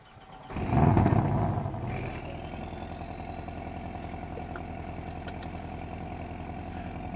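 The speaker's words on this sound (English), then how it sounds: "that exhaust sounds absolutely terrific" A Porsche 718 GTS 2.5 sports car engine fires up with a brief loud rev, then settles into a steady, throaty exhaust idle close by.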